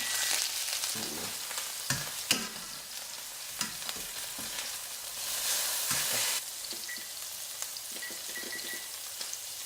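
Steady crackling sizzle of food frying in a pan, with scattered pops and spatters throughout; no voices.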